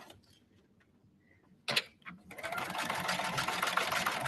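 A sewing machine zigzag-stitches a fabric sling bag, running in a steady, busy whir for the second half after a brief quiet start with a couple of short bumps.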